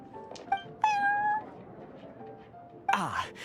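A cat meows in Genshin Impact, at a cat-themed café: a few clear, high, drawn-out meows, one longer and wavering, then a brief sharper cry near the end, with quiet background between.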